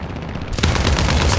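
He 112 aircraft guns and cannons firing in War Thunder air combat, a loud rapid automatic burst that starts after a brief engine drone and continues as dense, close gunfire.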